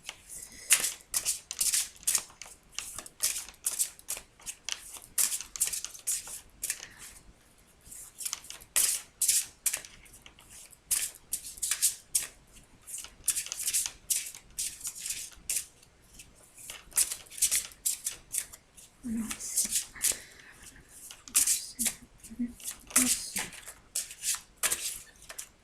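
A deck of cards being shuffled close by in repeated riffling bursts separated by short pauses, with a soft voice briefly heard near the end.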